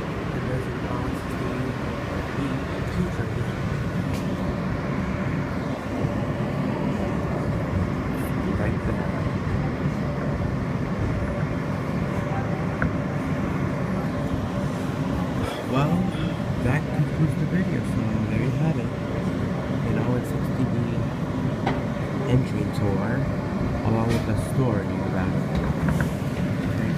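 An R160B subway train on the New York N line rumbles with a steady, close mechanical drone and hum, with occasional squeals and rattles over a continuous low roar, while a voice talks over it.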